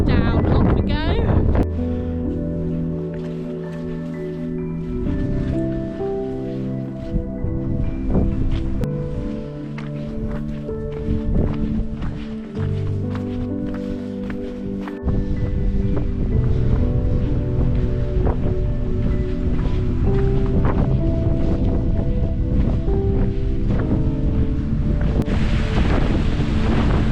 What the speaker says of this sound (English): it's super windy up here at the summit